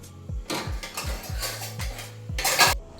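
Metal clinks and clatters against a pot of boiling tomato chutney several times in quick succession, ending with a louder clang as the lid goes on.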